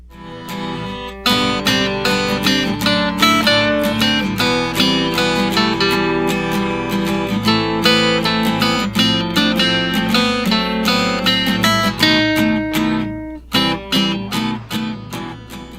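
Acoustic guitar picks out the melody of a Halloween tune in steady plucked notes with ringing chords, played alone at a close, even level for the whole stretch.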